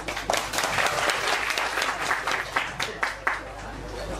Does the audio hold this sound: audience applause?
yes